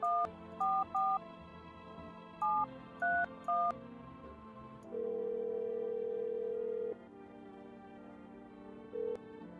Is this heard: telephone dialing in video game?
yes